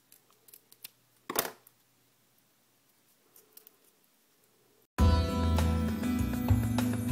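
Scissors snip excess paper from a die-cut flower on an adhesive circle, a few quiet close cuts with one louder crunchy snip, before an abrupt switch to loud music.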